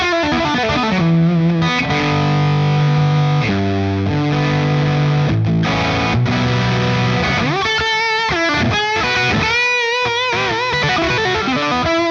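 Electric guitar played through an El Hombre amp boosted by a Tube Screamer overdrive pedal, loud and continuous: sustained driven chords and single-note riffs with warm saturated grit, alone without talk.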